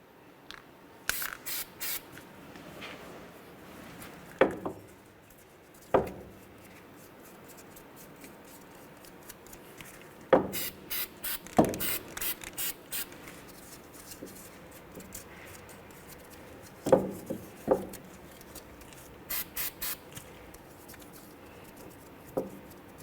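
Copper anti-seize sprayed onto the surfaces of a front wheel hub on a 2004-2010 Chevrolet Cobalt during a hub and bearing replacement, in a few short hissing bursts separated by quiet pauses and small handling clicks.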